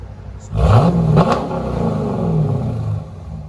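A 2020 Dodge Challenger R/T with a 5.7L HEMI V8 and Borla ATAK dual exhaust, resonators deleted, snarls into a sharp rev that climbs quickly, then settles into a loud, rumbling idle nearby.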